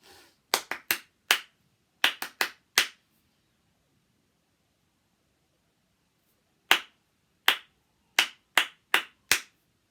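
Sharp hand claps in a clap-back game, a quick burst of about nine near the start, a pause, then another group of six, each crisp and close with silence between.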